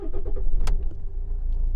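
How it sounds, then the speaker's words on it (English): A Rover 75 car engine starting with the key: a short cranking burst followed by the engine catching into a steady low idle, close up and alone. "I shall turn the key."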